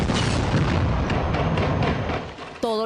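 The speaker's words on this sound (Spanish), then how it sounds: "esta explosión puso en marcha el operativo Chavín de Huántar" A long, heavy rumbling blast from the 1997 Chavín de Huántar hostage rescue operation roars loudly and steadily before tailing off, then cuts to a different, tonal sound at the end.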